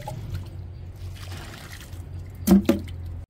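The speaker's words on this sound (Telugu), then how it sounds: "వాటర్ పోసుకుందాం." A small amount of water is poured onto a potted guava plant, a short soft trickle and splash close by, rising briefly near the end over quiet background.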